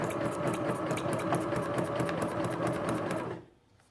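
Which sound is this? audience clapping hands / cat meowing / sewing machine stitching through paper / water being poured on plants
sewing machine stitching through paper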